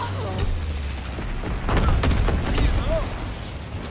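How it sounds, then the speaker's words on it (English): Enemy artillery shells exploding in Call of Duty: WWII, deep booms and rumbling blasts under continuous battle noise, with a shouted voice line cutting in. "Incoming enemy artillery! Get to cover!"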